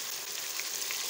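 Lightly fried chicken in a pan sizzling loudly and evenly as tomatoes go in, a dense hiss that continues without a break.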